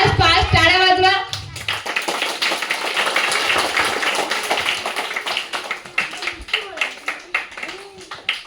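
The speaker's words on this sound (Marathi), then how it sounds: "टाळ्या वाजवा." A group of children clapping their hands during a running game, scattered claps that become a rhythmic series of sharp close claps, with an adult voice calling out over them.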